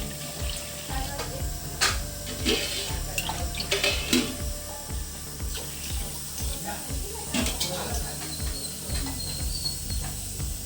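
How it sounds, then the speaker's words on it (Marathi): Water runs onto tamarind in a kitchen vessel, a close, steady splashing stream with uneven bursts and gurgles throughout. "पाणी घालते"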